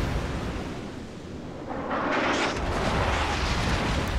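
A warship's guns in the World of Warships video game fire high-explosive shells, a low rumble swelling into a broad roaring blast over sea ambience, fairly loud and alone.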